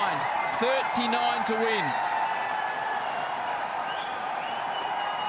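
Indian cricket crowd at the Gabba in Brisbane cheering during a Test match run chase, a steady, dense roar of many voices with whoops and scattered claps, while a commentator talks briefly over the top.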